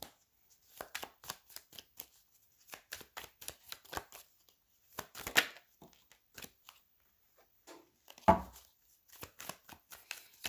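Tarot cards are shuffled and slapped down onto a table in quick irregular bursts of crisp flicks and taps, close and fairly quiet, with a louder thump near the end and no talking.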